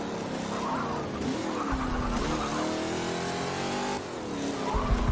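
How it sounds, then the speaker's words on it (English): Muscle car engine roaring steadily in a racing video game, with rising and falling revs as it accelerates and tires briefly squeal, continuous and loud throughout. "this is a muscle car."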